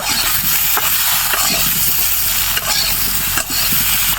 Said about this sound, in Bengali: পরিমাণ মতো হলুদ গুঁড়া দিয়ে দিব আবারও একটু সময় ভেজে নিব